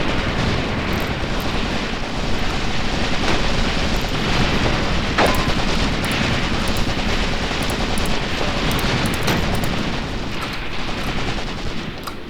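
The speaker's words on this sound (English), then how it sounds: "that's machine gun" Dense, continuous battle din from Graviteam Tactics: Mius Front, with machine gun fire rattling amid booming explosions and rumbling engines, loud and chaotic throughout with no talk.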